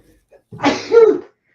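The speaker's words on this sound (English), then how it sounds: "Hold on. I gotta sneeze." A man lets out a single loud, close sneeze, with a short sharp intake followed by the burst.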